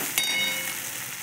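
Potato filling with garlic, coriander paste and turmeric sizzles steadily in a pan as it is stirred, with a brief clink of the spoon near the start and no talking.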